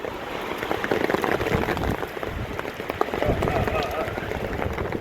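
Heavy rain pours down on a dark, windy day in Vientiane, a dense steady hiss of drops filling the whole stretch, with a voice talking over it.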